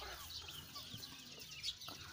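Pradu Hang Dam native chickens cluck in a backyard flock among jujube trees, scattered soft clucks and brief calls repeating over a steady outdoor background.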